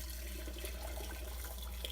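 Pickling brine poured into a jar of Pennsylvania Dutch pickled beets and eggs, a steady faint liquid trickle and splash running continuously with no talking.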